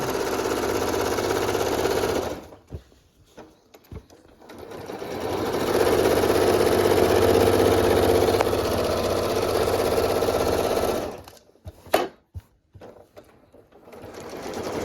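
A sewing machine runs fast in two long steady bursts, one near the start and a longer one in the middle, while a hem is held and sewn to the end; short clicks and pauses of the needle backing up follow.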